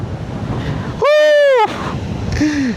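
Sea waves wash on the shore at Shah Porir Dwip, Teknaf, Cox's Bazar, giving a loud roaring wash with wind buffeting the microphone, broken briefly by a voice-like tone midway.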